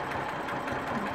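A sewing machine runs briefly, stitching across and backtracking on a quilt row, a fast steady mechanical whir close by.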